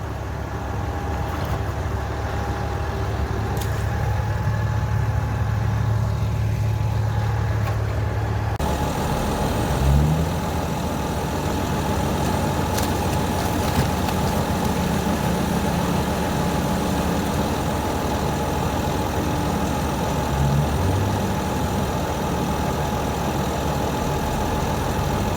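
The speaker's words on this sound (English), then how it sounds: "Dumper coming out." A dumper truck engine idles steadily at an earthworks site beside a silt deposit, then a deeper engine tone rises as the truck pulls away. The running continues throughout, loud and close, with no voices.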